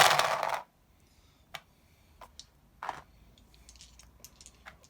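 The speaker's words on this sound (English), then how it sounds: "Dropping that down some dice." Dice dropped onto a tabletop during a Warhammer 40k battle: a loud rattling burst at the start, then a few sharp, isolated clicks and taps of dice settling, with no talking.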